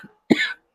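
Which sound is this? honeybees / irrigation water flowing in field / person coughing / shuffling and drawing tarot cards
person coughing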